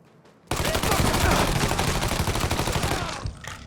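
Dense, sustained gunfire from a crowd-style shootout in the video game Mafia 3 erupts suddenly after a quiet moment, rapid overlapping shots and bursts continuing loudly for about three seconds before tapering.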